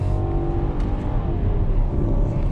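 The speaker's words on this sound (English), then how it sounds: "And downshift again, revving it out" A 2022 Infiniti QX80's V8 engine revs hard on a downshift toward the rev limiter, a loud, steady, full-bodied roar heard from the cabin with no talk.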